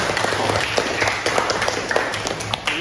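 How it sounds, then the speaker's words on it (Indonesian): Classroom applause for a student group, a dense wash of many small claps filling the room at steady loudness, with scattered voices mixed in. "beri tepuk tangan untuk kelompok 1"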